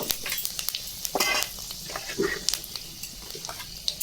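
Panch phoron and a bay leaf crackle and sizzle in hot oil, with sharp pops and bursts over a continuous frying hiss, plus light stirring and pan clinks close by.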